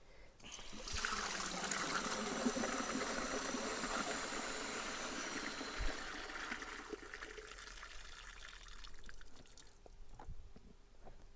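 Liquid waste gushing out of a caravan toilet cassette into a disposal hole, a steady splashing pour that runs for several seconds, then tapers into trickles and drips, fairly quiet, with no voices.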